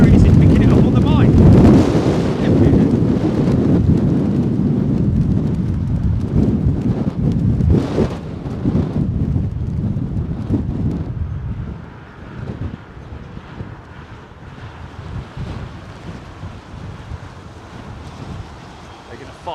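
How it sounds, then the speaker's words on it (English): A stiff, constant breeze buffets the microphone at London Heathrow Airport, a heavy low rumble that roars steadily, then eases into a thinner, gustier flutter. "This is very, very stiff, this breeze now. It's constant."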